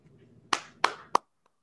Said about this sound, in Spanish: Lo recibimos con un gran aplauso.